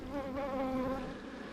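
Honeybees buzzing during an open hive inspection in late November, a faint, steady droning hum of wings close by, with no voices.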